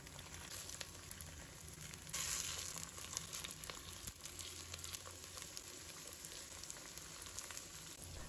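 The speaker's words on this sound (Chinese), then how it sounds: "把香菇一个一个的放入锅中， 用中小火慢煎，煎至一面金黄，" Shiitake mushrooms pan-frying slowly over medium-low heat, a steady soft sizzle and crackle running evenly throughout, close and moderately quiet, with a brief louder burst near the start.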